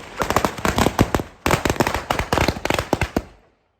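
Firecrackers set off on Diwali morning after the puja, crackling in dense, rapid strings of loud pops in two long bursts separated by a brief gap before fading out.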